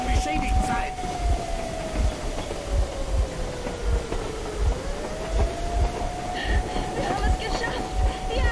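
Moving train in Metro Exodus rumbles steadily with rhythmic clacking and a long drawn-out whistling tone that dips and rises, loud and close throughout, with no talk over it.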